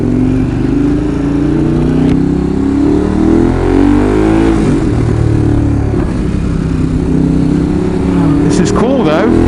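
A Ducati 916 motorcycle rides off on a dusty road, engine revving loudly nearby with shifting tones as it pulls away, with a voice briefly heard.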